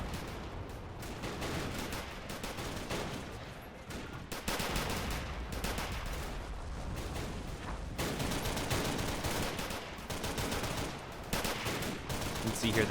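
Sustained battle gunfire as Soviet infantry below attack German defenders in a zoo tower in the Men of War game, with rapid rifle and machine-gun bursts and distant booms rolling on steadily.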